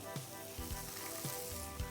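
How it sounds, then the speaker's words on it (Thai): Frozen peas and raisins being stir-fried in a hot pan, a steady sizzle broken by several sharp scrapes and knocks of a utensil stirring against the pan, close and clear with no talking. "ถั่วลันเตาเนี่ยผมล้างผ่านน้ำนิดหนึ่งแต่มันเป็นแช่แข็งเพราะฉะนั้นมันต้องผัด ให้โดนความร้อนนิดหนึ่งใส่ไปตอนนี้ครับ"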